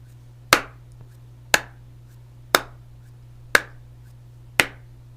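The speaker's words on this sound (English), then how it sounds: "Let me give you a clap test." Five sharp hand claps, spaced evenly about a second apart, ring out close and loud over a steady low electrical hum during a lip sync check on a livestream set.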